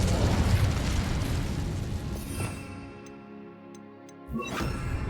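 A Bombarda spell explodes in Hogwarts Legacy with a booming burst that rumbles and fades, followed by a second sharp blast near the end, set against a game score with no talk.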